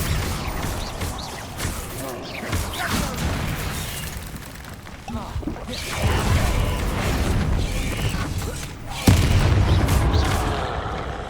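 Bombarda spell blasts in Hogwarts Legacy boom heavily amid a rolling barrage of magical combat, with a sharp louder impact near the end and a spoken voice heard along the way.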